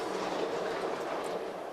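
A road train truck passes on the dirt Oodnadatta Track in outback South Australia, a close, steady broadband roar and rumble with no pauses.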